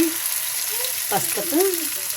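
Pasta and noodles hitting a hot pan, bringing a steady bright sizzle with a few short tonal squeaks and scrapes, close and fairly loud, no talking.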